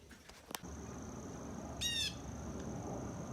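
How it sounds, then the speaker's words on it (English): A blue jay gives a single harsh, nasal call, fairly close and clear above a soft background hiss and a steady faint tone, with a couple of short knocks just before. "Had some good gnat sound of a blue jay"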